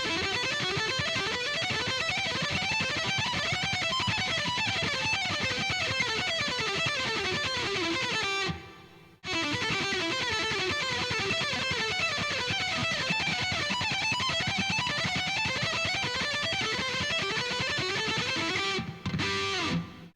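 A distorted electric guitar plays rapid ascending and descending runs from scale pattern 3, exercise 4, in an unbroken stream of even notes. There is one brief pause near the middle, and no one speaks.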